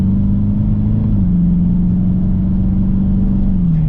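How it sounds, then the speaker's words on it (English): A 2023 Dodge Challenger R/T with a Hemi V8 spins its wheels on a bumpy back road, its engine holding a loud, steady low rumble with a slight pitch drop partway through, heard close and continuous. "Oops, spun the wheels a little bit."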